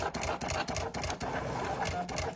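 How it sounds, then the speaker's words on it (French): A Silhouette cutting machine runs steadily up close, its busy mechanical whirring broken by brief stuttering clicks as the cutter moves. "Vous pouvez entendre le bruit des machines"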